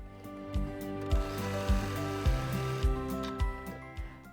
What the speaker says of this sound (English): we'll go over to our sewing machine and we're going to stitch that